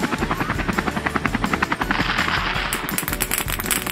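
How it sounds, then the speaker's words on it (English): A cartoon helicopter's rotor chops loudly and rhythmically, with rapid steady thumping that grows denser and brighter partway through. "Helicopter."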